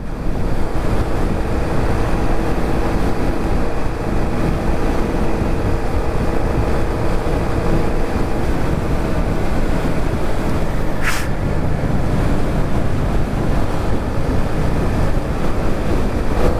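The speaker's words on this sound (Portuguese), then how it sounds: "Olha o vento que tá aqui, hein?" Strong wind roars steadily across the microphone, loud and unbroken, while a Honda Pop 110i motorcycle rides along a road near a sugarcane station.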